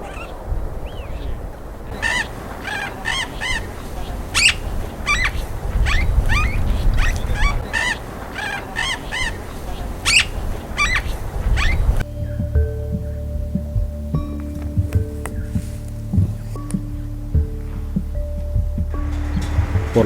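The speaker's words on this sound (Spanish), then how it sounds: "También vimos a una solitaria cachaña, la especie de loro más austral del mundo." A lone austral parakeet, or cachaña, calls near El Chaltén in Patagonia with a rapid run of sharp, chattering squawks in quick succession. The calls then give way to a steady humming drone and low rumbling.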